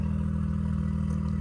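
Toyota Supra engine idling through a loud titanium exhaust, a steady throaty burble with a clattering edge, fairly quiet and continuous with no voices.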